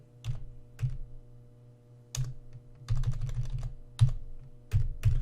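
Keys are tapped on a calculator while solving algebra equations, with short bursts of clicking presses in irregular groups, close and fairly quiet, with no talking.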